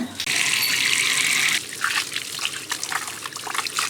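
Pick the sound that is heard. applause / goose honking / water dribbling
water dribbling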